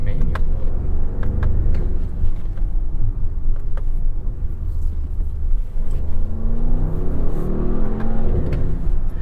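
A 2023 Bentley Bentayga V-8 in Sport manual mode gives a steady, deep engine rumble with surges as it shifts hard, heard from inside the cabin while people talk over it.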